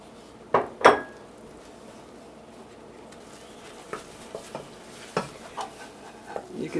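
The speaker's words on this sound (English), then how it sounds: "Cook and stir until mixture leaves the sides of the pan and clings to the spoon." Cream puff dough cooking in a pan as flour is stirred in, 1964 Wisconsin Dairyland recipe: a couple of sharp spoon knocks against the pan early, then scattered soft scraping and tapping strokes, close and fairly quiet, no talking.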